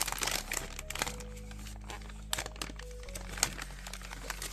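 LEGO parcel package being torn open, crinkling and crumpling of wrapping close up in bursts with a steady low hum underneath.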